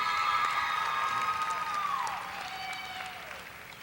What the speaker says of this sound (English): let's give one more round of applause for our student athletes from Naaman Forest High School